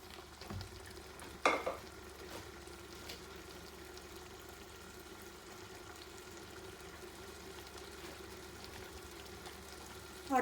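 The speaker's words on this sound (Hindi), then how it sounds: "अब हम लोग अपना इसके अंदर घी ऐड कर देंगे।" Grated carrot for gajar ka halwa frying in freshly added ghee, a faint steady sizzle with a sharp stir or scrape near the start and again at the very end, no voices.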